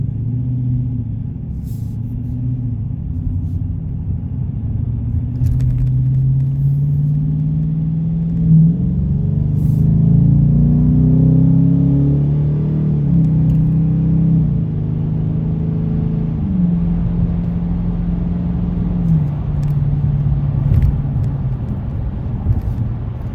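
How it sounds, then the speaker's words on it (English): Engine of a 2021 Dodge Challenger RT on a freeway commute in regular mode rumbles deep and steady, rising and falling in pitch through gear changes as it accelerates, a loud, close, low growl with no talk. "I just love the sound of the engine"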